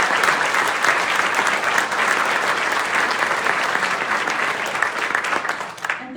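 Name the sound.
audience applause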